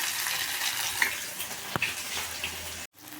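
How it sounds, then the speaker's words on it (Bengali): Rice fritters sizzle in hot oil in a wok, a steady broadband crackle with a few small pops, ending in a brief dropout before the frying resumes. "এই যে বড়াগুলো সব দিয়ে দেওয়া হয়েছে কড়াইতে। এবার এগুলো ভাজা হচ্ছে।"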